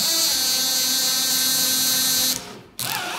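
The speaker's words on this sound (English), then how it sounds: "If I put it forward, it squeezes it." A cordless impact driver drill combo whirs steadily while its keyless chuck spins closed around a drill bit, then the motor cuts out with a brief ratcheting clatter and a short whir resumes.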